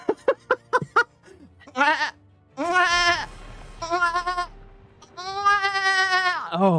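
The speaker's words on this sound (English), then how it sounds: "a weird goat scream" A weird goat scream: a few short sharp bleats, then several long wavering, strained screams with brief gaps between them, loud and close.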